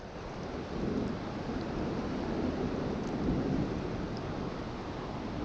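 Thunder rolling during rain on a fishing trip outdoors, a low, sustained rumble that swells and fades over several seconds beneath steady rain and wind noise.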